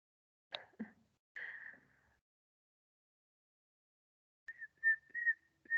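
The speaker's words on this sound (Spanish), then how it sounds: "una chica que silbe" A girl whistles a few short, breathy notes, pauses, then whistles a steadier series of clear tones; quiet and close, with silence between.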